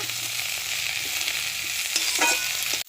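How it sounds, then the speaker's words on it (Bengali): Cauliflower and potato pieces frying in oil in a pan without any tempering spices, for a rohu fish curry, give a steady, close, dense sizzle that runs unbroken before cutting off abruptly at the end. "ফুলকপি আর আলু এবারে তেলের ওপরে ছেড়ে দিয়েছি, কোনো ফোড়ন দিইনি। দিয়ে এটা একটু ভেজে নেব।"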